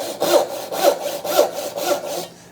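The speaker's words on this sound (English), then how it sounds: "One little technique that I like to use for sawing is to make a series of cuts, just straight cuts." A hand saw cuts through wood in four steady back-and-forth strokes, close and distinct, with a rasping rhythm and no talking.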